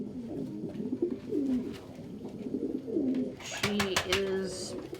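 Pigeons coo softly in a loft, with repeated low rounded calls; at the end a few brighter, higher bird sounds and clicks join in, and faint indistinct talk sits in the background.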